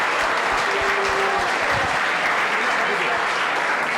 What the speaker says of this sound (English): So have a big round of applause for you yourself.